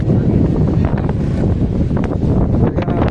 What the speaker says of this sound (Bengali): এখানে হচ্ছে প্রচুর বাতাস